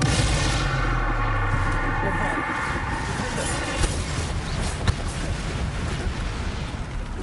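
Confringo blasting spells go off in Hogwarts Legacy amid a dense, continuous roar of combat, with sharp blasts near the five-second mark over a busy game mix.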